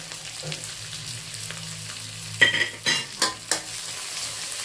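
Roasted chili paste, nam prik pao, being stir-fried in a pan for tom yum fried rice, with a low sizzle and then several sharp scraping strokes of a spatula close by, without talk.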